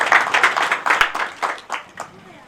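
Applause and clapping from an audience welcoming a guest onto the stage at a new-branch inauguration ceremony, a dense burst of hand claps that gradually thins and fades over a couple of seconds.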